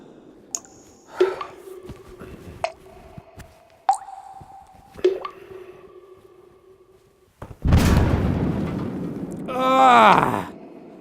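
Water from a leaking sink tap: a few separate plinking drips ring out clearly at irregular intervals, then a louder gush of splashing water with a swirling, squeaky tail.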